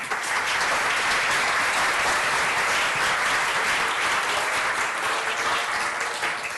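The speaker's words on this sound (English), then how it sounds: "let me hear you give a nice warm welcome to Dr. Nina Kraus" A lecture-hall audience at a Strathmore arts and brain talk bursts into sustained, loud applause to welcome a speaker, a dense, even wash of clapping throughout.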